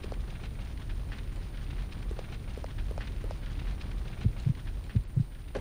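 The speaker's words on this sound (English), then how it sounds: "Heart beating." A heartbeat effect in the video game Resident Evil Code Veronica X, low thumping pulses over a muffled rumbling background, the beats growing stronger and more distinct toward the end.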